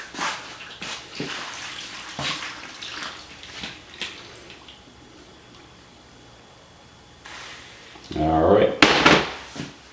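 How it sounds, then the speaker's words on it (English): Water is poured into a pot while making pear sauce from homegrown pears, with scattered clunks and handling knocks before a louder splashing pour near the end; a person speaks briefly in the clip. "And about 2 cups of water we're going to put in there."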